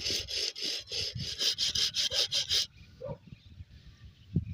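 Rhythmic rasping strokes, about ten quick back-and-forth scrapes of the rim of a glass cut from a square bottle against coarse sandpaper, then they stop and a few faint knocks and rustles follow.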